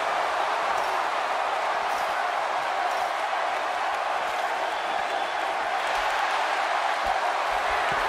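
Arena crowd in the WWE 2K18 wrestling game, a Hell in a Cell triple threat match, roaring in a dense, sustained wash of cheering that holds steady throughout.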